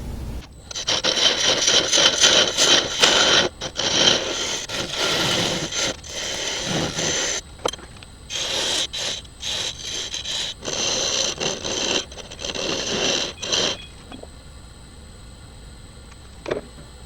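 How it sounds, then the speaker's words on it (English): Walnut wood turns on a lathe while being sanded, a loud scratchy rubbing hiss that comes in long passes with short pauses between them, then fades to quiet near the end. "I'm going to just do some quick sanding on it to see what I think of it"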